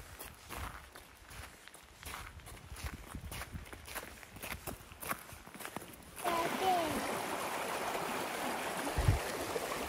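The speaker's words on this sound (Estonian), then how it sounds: "See vesi suliseb." A small stream gurgles as it flows toward a lake in Finland. Footsteps and a voice come first, then the water rises to a steady close babble for the last few seconds.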